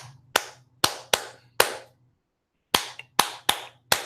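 Hand claps ring out alone in a quiet room, four sharp claps in an uneven rhythm, a pause of about a second, then four more, each crisp and close with a short decay over a low steady hum.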